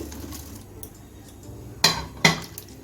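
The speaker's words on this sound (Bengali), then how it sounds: "দেখুন আমি বেজে রাখা পনিরটাও দিয়ে দিচ্ছি" Fried paneer cubes go into a pan of chilli paneer sauce thickened with cornflour water. Two sharp metallic clanks of a utensil against the pan ring out close by over a quiet kitchen background.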